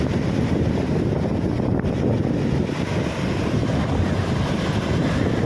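Strong typhoon wind over a rough sea roars and buffets continuously across the microphone, a dense, loud rush with no voices.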